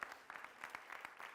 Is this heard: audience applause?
yes